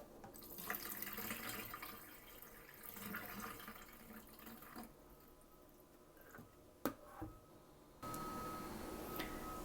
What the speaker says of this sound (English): So I'm gonna wash my rice.